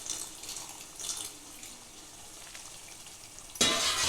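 Water poured from a plate into simmering chicken gravy for bagara rice, coming after a soft sizzle and faint stirring, with a sudden bright splashing gush at the very end; no talk.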